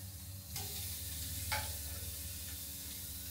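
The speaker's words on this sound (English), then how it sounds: "Boy, can you hear that sizzle," Steady broadband sizzling hiss of chicken on a hot barbecue grill, continuous throughout, with a couple of brief sharper crackles and a low hum underneath.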